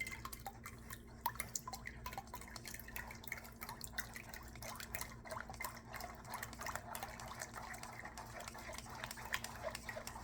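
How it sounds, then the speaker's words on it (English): Tamarind juice drips and trickles through a strainer in a quick, irregular patter of small drops, faint and close, over a low steady hum. "all this juice passing through now was difficult with the cheesecloth"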